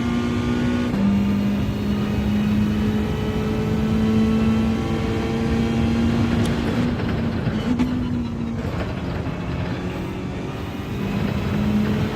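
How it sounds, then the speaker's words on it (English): A race car in Gran Turismo 7 held at high revs against the limiter, a loud, continuous engine drone with the pitch bouncing and dipping briefly, no voices. "Oh, hit the rev limiter again."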